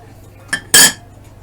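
Cover pulled off an Elna Special Star sewing machine: a small click followed by a brighter metallic clatter, both brief and close.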